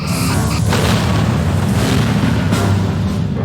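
A starship blows up in the space combat game Star Trek Bridge Commander, a loud continuous booming rumble with layered crackling bursts that lasts a few seconds, with no talk.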